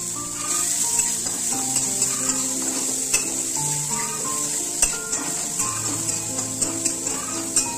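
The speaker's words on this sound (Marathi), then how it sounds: "आता आपण टाकू टोमॅटो. जरा चांगला मस्त मिक्स करून घेऊ." Onion and tomato frying in butter in a pan, stirred with a utensil: steady close sizzle with scraping and light clinks throughout, no talk.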